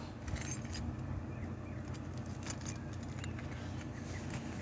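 Keys jingle and rattle close by, in scattered bursts over a low, steady engine rumble.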